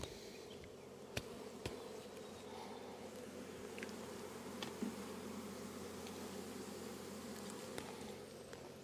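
Honey bees swarm and buzz around an opened hive as a beekeeper smokes them aside: a steady, dense outdoor drone with occasional louder bees passing close.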